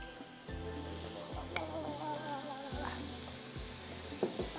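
Butter and about a tablespoon of oil sizzle in a pan for chapli kabab, with a steady frying hiss and occasional stirring scrapes running throughout, no voices present.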